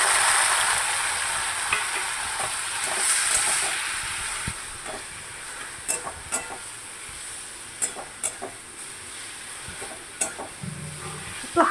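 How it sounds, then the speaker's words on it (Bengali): Boiled bottle gourd, cooked before going into milk for a sweet pudding, fries in a kadai with a steady sizzling hiss, while a spoon scrapes and clinks against the pan in irregular strokes, growing more frequent toward the end. "তারপর আমি কড়াইয়ে দিয়ে দিচ্ছি সিদ্ধ করা লাউটা।"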